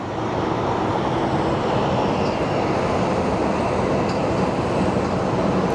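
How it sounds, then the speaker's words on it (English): A Sun Country Airlines jet taxis past a Southwest plane at Phoenix Sky Harbor Airport, giving off a constant, dense engine rumble and hiss that stays steady and fairly close throughout. "Then we have our Sun Country Airlines. It's going to be passing right in front of the Southwest."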